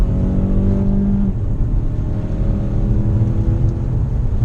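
A 2018 Mazda CX-5's Skyactiv 2.5-liter four-cylinder accelerating, a steady loud engine drone with a rising hum from inside the cabin, no talking.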